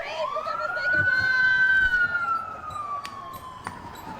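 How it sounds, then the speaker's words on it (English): A police siren wails along a street in Los Feliz, rising and then falling in one long, clear sweep that fades gradually as the vehicle moves off. "even the sirens are celebrating"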